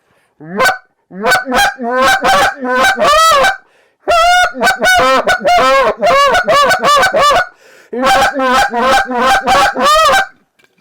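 A Hayes goose call blown in rapid bursts of loud, honking clucks and moans, close and dry, in several quick sequences separated by short pauses.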